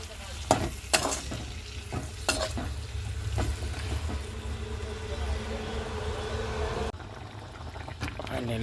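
Vegetables fry in a pan, a steady sizzle under several sharp scrapes and clacks of stirring, with a voice speaking in between.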